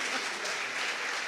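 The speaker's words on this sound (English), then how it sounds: "Give yourselves a clap." An audience at The People's Forum 2024 claps for itself in a dense, steady burst of applause that stays loud and even throughout, with no talking over it.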